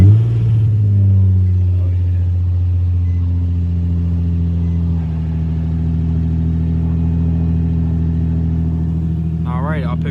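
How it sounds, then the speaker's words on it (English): A cold BMW Z3 engine idles with a steady, loud low rumble that holds even and close throughout, a voice briefly audible over it near the end. "So I'm gonna go ahead and give you guys a cold start from the Z"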